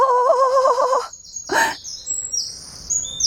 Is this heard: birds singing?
yes